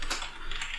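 Quick keystrokes on a computer keyboard while code is entered, a short dense burst of close, light clicking with no voices.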